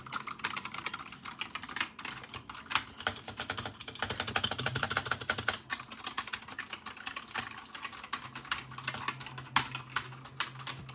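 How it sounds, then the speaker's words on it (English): Steady, dense typing on a new computer keyboard, close-up ASMR style, with continuous clicky keystrokes running throughout and no talking. "Keyboard ASMR with the new keyboard."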